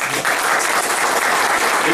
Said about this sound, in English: Can you all join me in welcoming him by clapping?